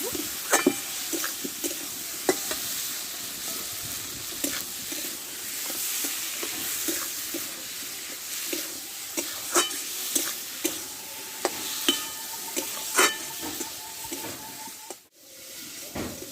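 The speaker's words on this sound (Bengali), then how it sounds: "মশলার সঙ্গে ভালোভাবে আলুটা আমি একটু কষে" Potatoes stir-fried with spices in a pan, a continuous sizzle punctuated by frequent rhythmic spatula scrapes and knocks, close and fairly loud, with a brief dip near the end and no speech.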